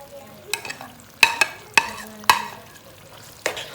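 A spoon stirs creamy white sauce pasta in a pan, giving several distinct scraping knocks against the pan over a soft sizzle, close up and without talk.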